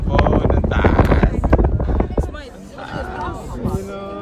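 Wind buffets the microphone with a heavy low rumble at a high viewpoint at the Peak Tram in Hong Kong while people talk nearby; the gusts ease off partway through.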